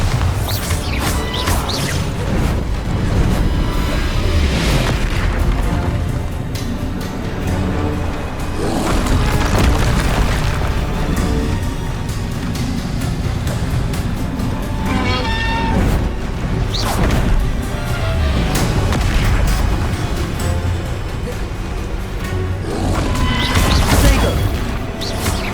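Bombarda blasting spell explosions from Hogwarts Legacy, repeated heavy booms and crashes over a dense, loud game soundtrack, with several bursts spread across the stretch.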